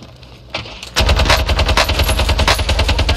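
PPSh submachine gun fired full-auto from the hip in a video game: a few sharp shots, then a loud, rapid continuous burst of gunfire lasting over two seconds.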